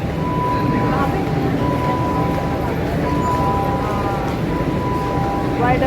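Riding inside a moving metro train gives a steady, loud rumble under a sustained motor whine, with faint clinks and background voices murmuring.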